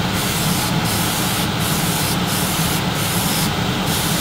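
An airbrush mists a light coat of paint onto a 1/48 scale Academy SU-27UB Flanker model kit, a steady close hiss with brief repeated pulses as the spray is triggered.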